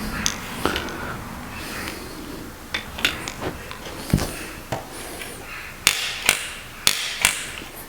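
A torque wrench tightens cylinder head bolts on a Massey Ferguson 23C tractor during a head install. Sharp single clicks and knocks come close by at irregular intervals over a steady background, with no speech.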